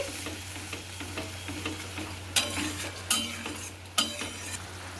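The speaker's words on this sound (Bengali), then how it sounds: "এবার আমি জল দিয়ে দিব জল দিয়ে একটু আমি নেড়ে নিচ্ছি" Fish curry masala for doi katla being stirred in a pan after water is added, a soft bubbling sizzle underneath with a few sharp metal scrapes of the spoon against the pot.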